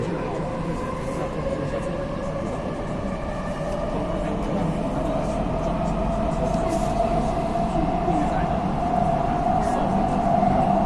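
A Kaohsiung metro train runs at speed between Xinzuoying and Formosa Boulevard stations, a continuous loud roar and rushing rumble with a rising whine, steady throughout the ride.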